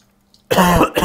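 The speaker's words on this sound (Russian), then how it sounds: "Да как же надоело кашлять-то уже" A single harsh, close cough bursts from a person after near silence, with a short second cough right after.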